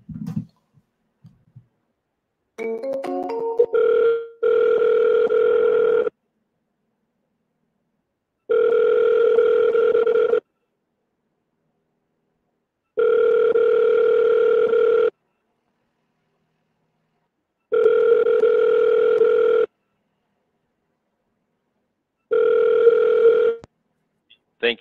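Phone call to a Florida realty office: a short burst of dialing tones, then five long, evenly spaced ringback tones with steady pauses between them, clear and alone on the line.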